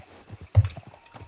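Horse hooves in the RedM Red Dead video game, a few soft clip-clop steps at close range, one louder thud standing out, quiet overall.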